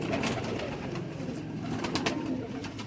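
Pigeons coo steadily in a breeding loft housing Ferozpuri and cross-bred birds, a soft continuous murmur of several birds close by with no talk over it.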